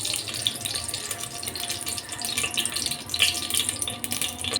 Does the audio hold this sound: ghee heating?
yes